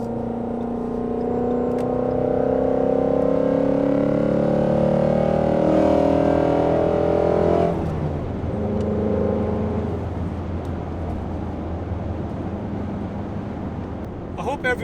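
Steady low engine drone of a 2017 Shelby GT350 on the road, heard from inside the cabin for most of the span, with a shift in tone partway through as the car changes speed.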